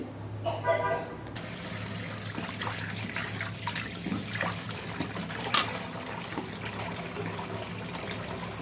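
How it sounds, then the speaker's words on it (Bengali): Salt-rubbed, cut koi fish being rinsed clean with water in a home kitchen, giving a soft, steady trickle and splash that runs throughout, with faint background noise and one brief louder knock near the middle. "লবণ দিয়ে ঘষে এখন ধুয়ে পরিষ্কার করে নেব"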